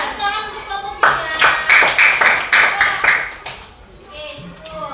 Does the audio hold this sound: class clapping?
yes